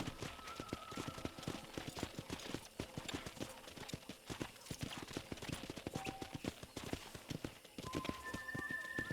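Rapid hoofbeats of a galloping horse in the video game Red Dead Redemption thud steadily throughout, with a brief neigh and faint tonal game sounds layered over the rhythm.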